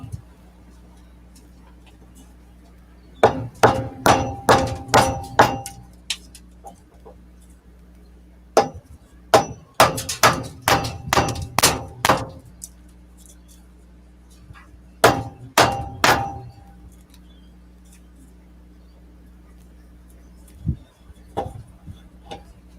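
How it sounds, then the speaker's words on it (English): A hammer strikes a dead knot in a wooden branch in repeated bursts of sharp, ringing blows, several quick hits per burst with pauses between, close and loud over a low steady hum. "Get a hammer and hit that knot, all right?"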